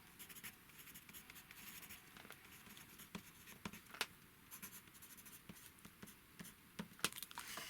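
A pencil marks on drafting film, faint close scratchy strokes coming in short irregular bursts, with a few sharper ticks.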